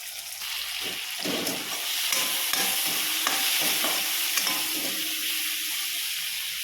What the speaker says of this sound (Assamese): বিলাহীখিনি গলি যোৱালৈকে ফ্ৰাই কৰি ল'ম অকণমান।